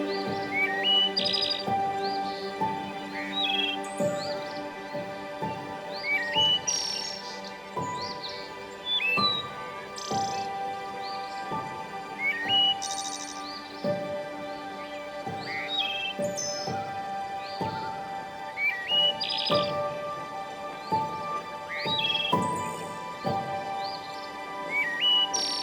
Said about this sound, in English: the sounds of the wind swirling through the trees and the birds chirping